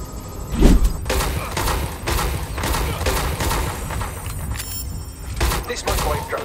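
Gunfire in the video game Watch Dogs Legion, repeated sharp shots and bursts through the stretch, loud and close, mixed with game noise and a voice talking over it.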